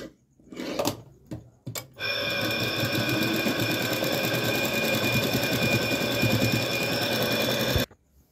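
A sewing machine runs steadily for about six seconds as it stitches a pillow cover, a loud close mechanical whir that starts after a few brief handling knocks and then stops abruptly.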